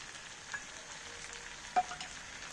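Ginger paste added to fried chicken gives a soft, steady sizzle in the pan, faint and continuous, with a couple of light clinks and no talk.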